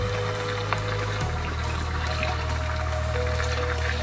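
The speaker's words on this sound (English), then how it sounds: "Add some water." Steady pouring water into a cooking pot of yam porridge, with a constant low hum underneath, filling without pause for a few seconds; no voices.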